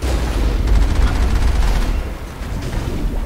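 A vehicle cannon fires in the Mass Effect video game, a loud and continuous barrage of rumbling blasts with repeated bursts through the middle of the clip.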